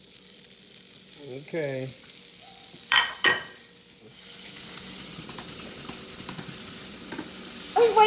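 Bacon fries in a hot pan with a soft, steady hiss that grows later. A brief voice is heard near the start, and a few light utensil knocks sound close by.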